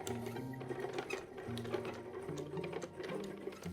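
A linen loom mechanism runs steadily with a fast mechanical clatter and a whirring hum, repeating in short cycles, close by with no talking.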